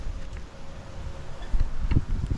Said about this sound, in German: So verflucht windig, Mann.